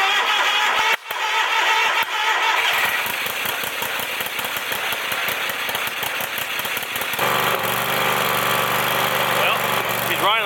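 An engine on a wood-farming job cranks with a fast, rattling pulse for several seconds, then settles into a steadier, rougher running drone.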